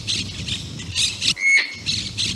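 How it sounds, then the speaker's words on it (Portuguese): Birds in the Pantanal wetland squawk and call repeatedly in short harsh bursts, with one clearer whistled note in the middle, close and fairly loud over a soft background. "Pássaros de todo tipo."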